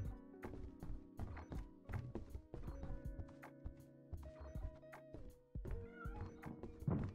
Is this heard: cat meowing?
yes